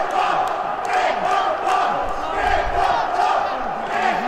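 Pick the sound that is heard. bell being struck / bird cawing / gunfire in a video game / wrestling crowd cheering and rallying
wrestling crowd cheering and rallying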